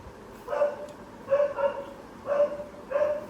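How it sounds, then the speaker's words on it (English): Several dogs bark indoors in a house, four short bursts of loud, close yapping spaced about a second apart. "my dogs are barking like crazy"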